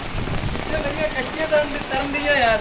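Heavy rain falls steadily during a flood in Mirpurkhas, a broad hiss of drops on surfaces with water sounds, while people talk nearby over it.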